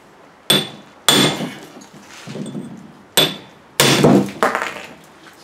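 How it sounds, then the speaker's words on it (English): Hammer strikes on a steel chisel dressing a granite stone, four sharp ringing impacts spaced irregularly, close and loud, each with a short metallic decay and gritty chip noise. "Use a chisel"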